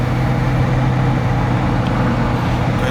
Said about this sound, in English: Gonna let you hear the engine run from here.